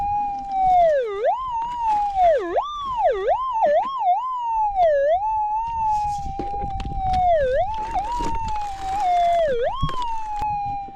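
A loud, continuous metal detector tone from a signal in a large piece of quartz while prospecting for gold, warbling and swooping up and down in pitch, with occasional crackles and rustling underneath.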